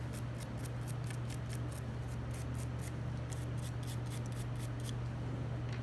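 A brush scrubs solvent-coated handgun parts in quick repeated strokes, a steady scratchy rhythm over a constant low hum, close and fairly loud.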